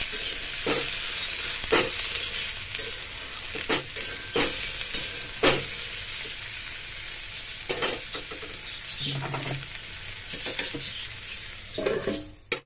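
Potatoes and pointed gourd frying in a pan, with a steady sizzle throughout and repeated sharp scrapes and clatters as the pieces are stirred, close and fairly loud, without any talk.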